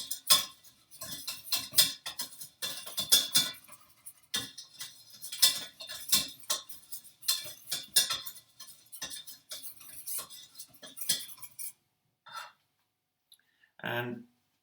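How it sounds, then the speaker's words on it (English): Whisk scraping quickly around a pan as flour is worked into melted butter, a fast irregular metallic clatter that stops near the end, followed by one short separate knock. "I'm whisking it in."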